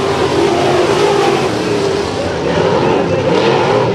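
Race cars roar around turns 3 and 4 at Bakersfield Speedway in a battle for the lead, a dense, continuous engine drone that stays loud throughout under a commentator's voice.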